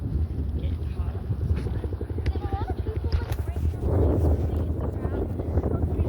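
A UH-1 helicopter's rotor chops steadily nearby at the Atlanta Peachtree City Airshow 2025, with a rumbling engine drone, while people talk over it and wind buffets the microphone.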